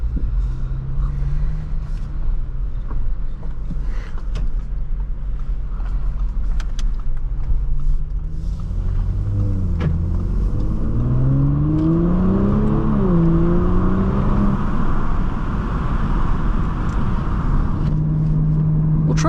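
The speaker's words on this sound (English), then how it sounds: "let's go take a nice drive in this S5." A 2022 Audi S5 3.0T Sportback Premium Plus driving on a warm day in light traffic, with a steady road rumble and engine note that climbs and sweeps through several rising pitches under acceleration and gear changes, loud and continuous throughout.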